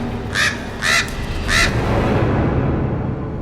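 Crows sitting on a rooftop give three loud, evenly spaced caws in quick succession, then fall silent over a steady background hiss.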